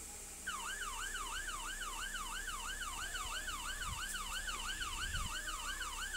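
Wailing ambulance siren in the Roblox game Brookhaven, a steady rising-and-falling electronic tone cycling continuously and loud for several seconds, with a couple of soft low thumps beneath and no talking.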